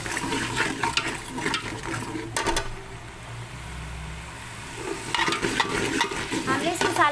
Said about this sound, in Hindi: हमारे मसाले बहुत अच्छे से भून चुके हैं इस तरीके से